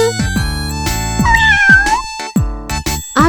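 A cartoon kitten in an animated children's story gives a string of high, loud meows, about half a dozen short calls in quick succession, clear and up front with nothing else under them.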